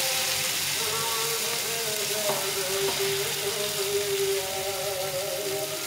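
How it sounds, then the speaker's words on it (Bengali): Vegetables such as beetroot, capsicum, coriander and cabbage fry in a pan over low heat, giving a steady, moderate sizzle with soft crackles throughout and no voices. "একদম হিটটা লো করে দিতে হবে, দিয়ে এটাকে ভালো করে ভেজে নিতে হবে"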